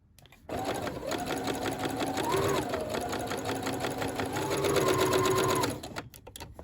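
A sewing machine stitches coat pieces from shoulder to a marking in one steady, fast run of needle clatter lasting several seconds, starting and stopping abruptly, close and alone.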